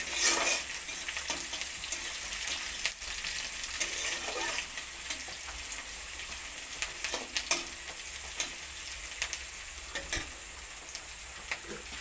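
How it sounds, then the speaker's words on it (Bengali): Chopped onion frying lightly in a pan, a steady close sizzle with irregular ticks and pops and occasional stirring scrapes, no voices. "পেঁয়াজ কুচিটা দিয়ে পেঁয়াজটাকে হালকা ভেজে নেবো খুব বেশি ভাজবো না"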